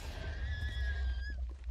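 A horse in a video game lets out one clear, drawn-out whinny lasting over a second, loud over a steady low game rumble.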